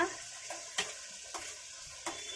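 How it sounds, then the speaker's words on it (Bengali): Green chili paste frying in a pan with steady sizzle, and a spoon stirring in several distinct scrapes at a regular pace, close and clear, without speech. "ভালো করে নেড়ে দেবো এবারে দিয়ে দিচ্ছি কাঁচা লঙ্কা বাটা"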